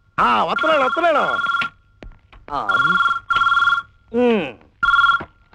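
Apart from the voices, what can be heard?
telephone ringing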